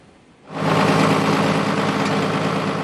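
A farm tractor belonging to agricultural school students at a tractor competition in Przemystka, Kujawsko-Pomorskie, Poland, roars into life after a quiet half second, then runs loud, close and steady with a rough, throbbing rumble.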